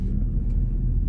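A Mercedes 6.3 V8 AMG engine idles with a deep, steady low rumble, close and continuous for a brief moment.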